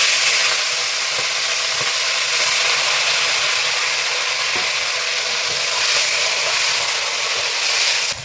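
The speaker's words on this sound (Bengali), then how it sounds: "তো সবার আগে এই চিকেনগুলোকে ভেজে নেব" Chicken pieces frying in mustard oil in a kadai, a steady loud sizzle with dense crackling hiss running continuously throughout, close and uninterrupted, with a few soft clinks and stirs underneath and no talking.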